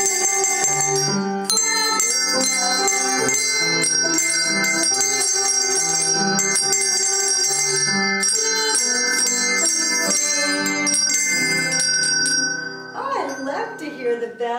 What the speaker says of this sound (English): we want to ring our bells this morning as we begin our Sabbath school